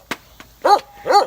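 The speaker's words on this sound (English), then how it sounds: "this crazy dog keeps barking" A dog barks close by in two small sharp yips followed by two louder, fuller barks, with no talk during the short burst.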